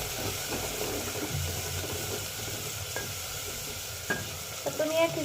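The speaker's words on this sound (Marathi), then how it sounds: "टोमॅटो थोडा परतून घेऊ।" Tomato and softened onion fry in a pan for dal khichdi, a soft continuous sizzle with light stirring scrapes and a couple of sharper clinks toward the end.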